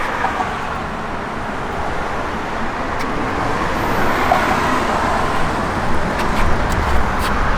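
Steady cruising in a 1973 Dodge Challenger Rallye powered by a factory 340 H-code V8: a continuous broadband drone of engine and tyres on the road, gently rising in level, with no voices.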